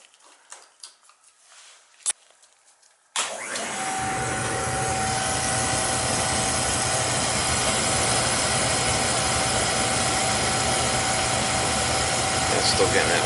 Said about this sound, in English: It's still getting that whine. Could be the motor.